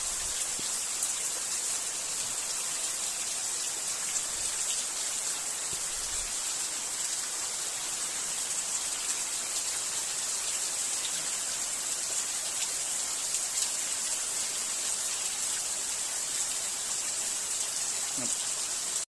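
Rain falls in a steady, even outdoor hiss that stays unbroken throughout, with no clear drops or gusts standing out.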